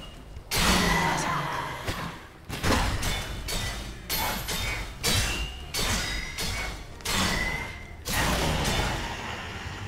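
Repeated loud whooshing impacts, thuds and shattering bursts come from a weapon slicing through enemies in the VR game Until You Fall, following one another in quick succession.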